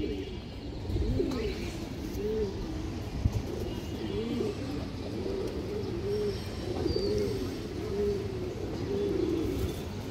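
Pigeons on a pigeon farm coo repeatedly in soft, rolling calls that overlap in a steady rhythm, fairly faint over low background noise.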